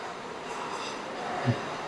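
A train runs along a nearby railway line near Domjur station, a steady broad rumble at moderate distance with one brief low thud, no voices.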